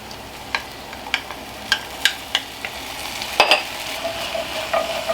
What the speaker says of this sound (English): I'm going to go ahead and add in my minced garlic